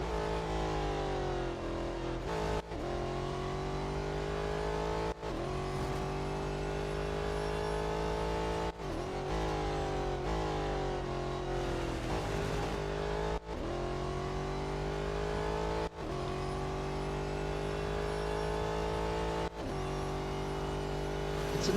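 An LMP prototype race car engine in the Real Racing 3 video game drones loudly and steadily, with a brief drop in pitch at each gear shift.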